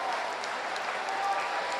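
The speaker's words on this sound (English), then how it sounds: "Round of applause for our men 1500 metre freestyle." A crowd at a short course swimming championship in New Zealand applauds after the men's 1500 metre freestyle. The clapping is dense, steady and even, and an announcer's voice is faintly mixed in.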